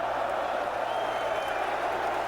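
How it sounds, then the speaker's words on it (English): Huge crowd applauding Muhammad Ali at the 20th of May Stadium during his heavyweight bout with George Foreman, a dense, even roar of clapping and cheering with no breaks, heard at a distance. "Ali gets a hand from the tremendous crowd here at 20th of May Stadium."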